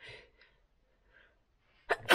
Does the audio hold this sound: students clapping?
no